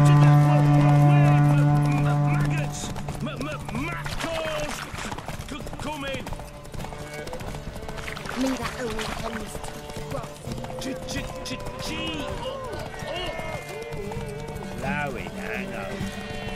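Roach, a horse in The Witcher 3, gallops during a race, hooves drumming in a steady rhythm beneath game music and a voice talking throughout.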